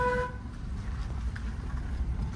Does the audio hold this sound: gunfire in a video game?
no